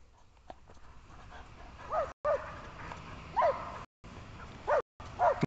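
A dog gives several short yelping barks and whimpers close by, spaced out in bursts over a quiet background.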